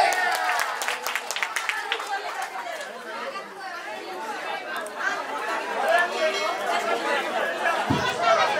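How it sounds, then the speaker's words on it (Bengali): Crowd at a village welfare society picnic raffle draw clapping in a burst of applause at the opening, then settling into loud overlapping chatter and voices that continue to the end. "সবাই হাতে তালি।"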